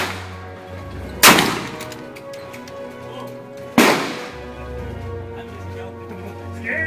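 Shotgun fired at an outdoor shooting range, two sharp, loud blasts a few seconds apart over a steady background hum and distant chatter.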